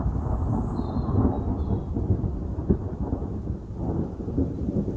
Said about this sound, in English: now it's raining pretty well